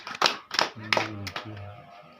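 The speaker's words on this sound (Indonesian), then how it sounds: "Sekali lagi kita berikan tepuk tangan untuk kelompok yang sudah memberikan hasil atau melakukan hasil diskusinya." A handful of separate sharp hand claps ring out in a training-session room for discussion groups, spaced about a third of a second apart, followed by a voice speaking.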